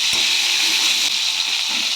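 Potato pieces fry with cumin and a bay leaf in a pan of hot oil, giving a loud, steady, close sizzling hiss, with a soft thump near the start.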